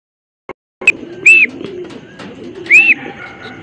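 A pet pigeon coos close by, giving two drawn-out cooing calls with brief rustles and clicks between them, loud and with no talking.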